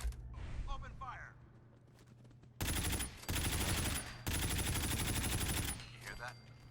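Rapid automatic gunfire in the video game Fallout 4, with two loud sustained bursts that pause briefly between them, following a quieter stretch of in-game voices and mechanical sounds.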